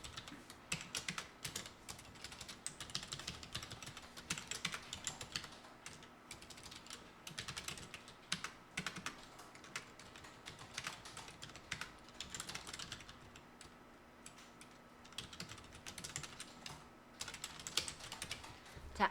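A password typed on a computer keyboard while signing up for an online shop account, with quiet, fairly quick key clicks running throughout against a faint steady hum.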